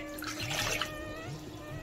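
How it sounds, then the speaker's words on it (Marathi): Water pours steadily into a cooking pot in a home kitchen, a continuous splashing rush lasting a couple of seconds, close and moderately loud with no talking. "प्रथम आपण एका भांड्यामध्ये पाणी घेऊया।"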